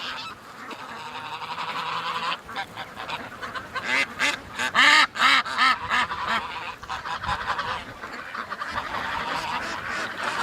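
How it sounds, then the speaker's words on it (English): Geese honk loudly and repeatedly in a farmyard pen as they try to take off into the wind, a dense overlapping chorus with wind noise that swells to a peak midway, with other ducks and fowl nearby. "got some geese going to try to fly into the wind here"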